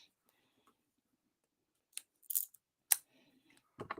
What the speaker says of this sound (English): I'm gonna use some scissors